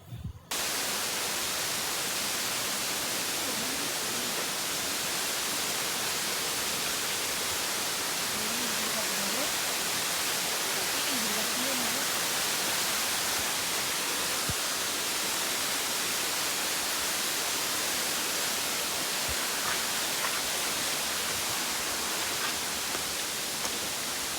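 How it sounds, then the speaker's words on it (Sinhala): Adahalena Ella waterfall at Elpitiya, Sri Lanka, roars with a steady, dense rush of falling water that fills the whole scene without letup, with faint voices buried beneath it. "ඔය තියෙන්නේ අඬාහැලනැල්ල"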